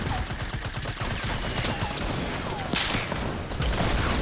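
Rapid gunfire in a Fortnite 50v50 battle royale match, dense overlapping bursts and single shots crackling continuously and loudly throughout, with no clear talk over them.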